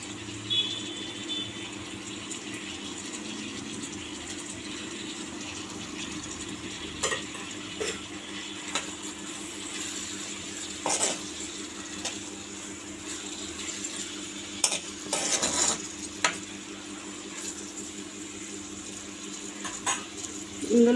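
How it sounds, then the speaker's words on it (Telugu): Cabbage frying with onions in a pan, a steady soft sizzle under intermittent scraping and clinking of a utensil stirring against the pan. "ఇప్పుడు ఈ ఉల్లిపాయల్లోనే నేను ముందే కట్ చేసి పెట్టుకున్న క్యాబేజ్ని కూడా వేసి ఫ్రై"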